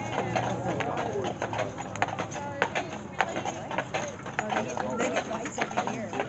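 Horse hooves clip-clop in a steady rhythm on a hard surface, pulling a carriage on a holiday lights ride at Island Park, while people talk nearby.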